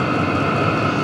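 A steady, loud roaring combustion hum with a constant drone from a Vevor diesel heater burning at full ignition, with no pauses.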